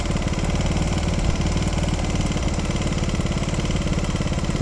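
An ailing motorcycle engine idles on a Tokyo city street with an uneven, throbbing low putter, steady and close throughout.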